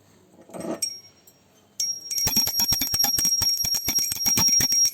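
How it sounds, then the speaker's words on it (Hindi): A small hand bell rings rapidly and continuously during a Hindu aarti prayer for Hoi Ashtami, bright metallic strokes in quick succession, loud and close after a brief quieter moment. "तो अब हम घंटी बजाकर करेंगे मैया की आरती।"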